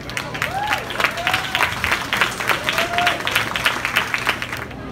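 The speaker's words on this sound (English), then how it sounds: "We have a big applause for him" Applause at a dental association charity gala in San Diego, moderate crowd clapping in uneven pulses for several seconds, with voices and whistles rising over it.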